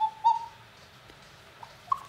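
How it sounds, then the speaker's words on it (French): Small bellows in a cuckoo clock sound the familiar two-note cuckoo call, one soft hooting note near the start and another near the end, faint and isolated in a quiet room. "avec ces deux sons, on peut imiter le chant du coucou"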